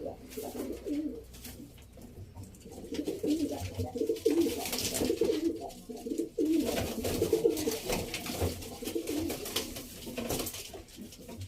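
Low, soft cooing from a group of pigeons, including Arabian-type birds and young ones, rolls on continuously at close range, with overlapping calls swelling and fading and no speech over it.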